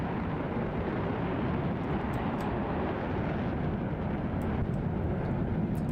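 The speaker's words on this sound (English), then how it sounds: "That's a lot of thrust coming out the back of that plane." Loud, steady jet afterburner roar from a warbird in a Roblox airshow game, a broad continuous rumble holding for the whole stretch with no talk over it.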